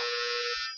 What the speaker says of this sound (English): Sorry for the buzzer in the background.